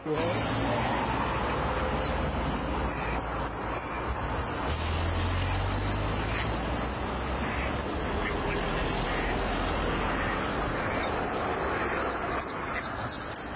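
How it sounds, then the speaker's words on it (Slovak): A mother duck and her ducklings from the Hron river cross two dual carriageways full of cars, giving bursts of repeated quacks over a loud, constant roar of passing traffic. "Kačacia rodina prešla z Hrona cez 2 dvojprúdovky plné aut."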